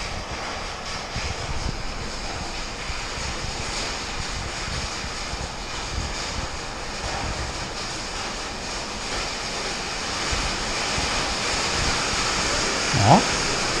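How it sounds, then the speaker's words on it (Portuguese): Hailstorm with heavy rain and strong wind at a container house in Curitiba: a dense, steady roar of rain and hail rushes continuously, loud and unbroken, with no voices. "bastante granizo, hein?"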